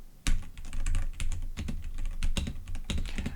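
Fast typing on a mechanical keyboard about eight inches from the microphone, with dense, close clacking keystrokes and a few louder taps, continuous and without speech.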